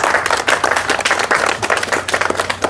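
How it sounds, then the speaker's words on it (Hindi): Crowd clapping at a goat traders' committee gathering in Hanumangarh, a dense steady patter of many hands held loud and close throughout. "ताली थोड़ा मार दें आप"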